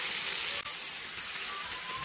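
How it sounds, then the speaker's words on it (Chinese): Rice-field carp fish pan-frying in oil makes a steady, soft hissing sizzle, even and unbroken apart from one tiny dip, heard close with no talking. "你看这样煎的金黄金黄的"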